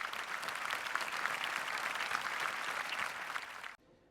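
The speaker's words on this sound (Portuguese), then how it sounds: "Uma salva de palmas, Denilson." Audience applause for a speaker at a distributed solar generation talk, dense and sustained at an even level before stopping abruptly near the end.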